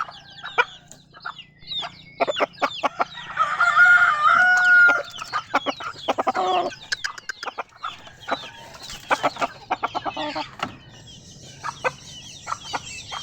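Rhode Island chickens cluck and chatter nearby while a rooster lets out a long, loud crow partway through. Scattered clucks and calls continue throughout with no speech.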